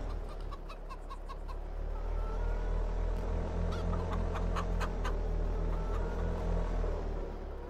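Chickens cluck in short repeated bursts at a farm in Farming Simulator 22, heard over a steady low engine rumble from nearby machinery, with no talking.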